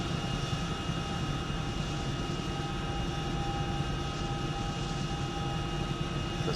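In the video game ARMA 3, a helicopter flies low past trees with a steady, dense rotor and engine drone that stays constant throughout, with no talking.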